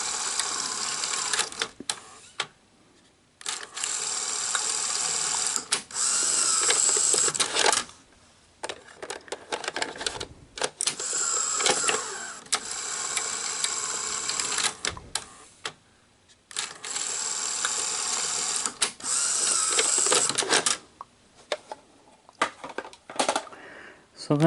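A PAL Betamax VCR with a newly replaced cassette housing takes in a tape, its mechanism whirring, clicking and grinding close by in several bursts separated by brief pauses.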